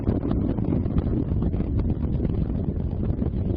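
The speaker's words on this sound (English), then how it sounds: "engines beginning to rev up" Space Shuttle Discovery's engines roar during the 2006 STS-121 launch as they throttle up, a steady, dense, low rumbling roar that rolls on without a break and with no voices.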